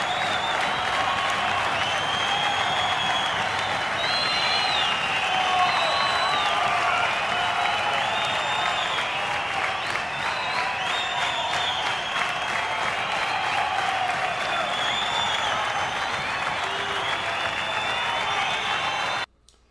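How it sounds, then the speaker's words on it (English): A large concert crowd at a 1976 show applauds continuously with dense clapping and scattered cheers and whistles, sustained and loud throughout before cutting off at the very end. "Listen to that crowd loving it."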